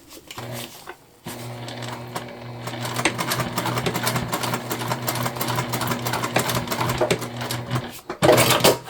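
A sewing machine runs steadily for several seconds, basting a slider in place on a fabric car trash can, its close mechanical whir and rapid needle clatter starting after a short pause and stopping near the end.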